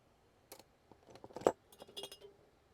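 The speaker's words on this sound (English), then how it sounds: "I'll use this metal ruler." A metal ruler scraped across paper to distress the edges of a journal page, giving faint, irregular scratchy strokes with small clinking ticks, close up in a quiet room.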